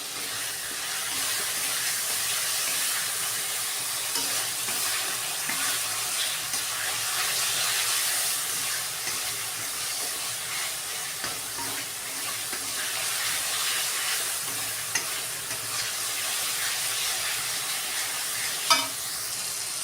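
Tomatoes sautéing with coriander powder, garam masala and salt for an Odisha-style egg curry, a steady close sizzle and hiss with occasional stirring clinks, continuous for the whole stretch without speech.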